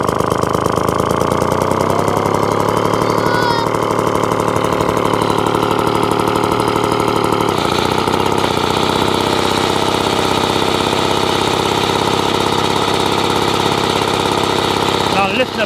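A 1954 Atco Villiers Midget vintage lawn mower engine runs steadily at a fast, buzzing idle, its pitch shifting partway through as it is revved, loud and close with no pauses.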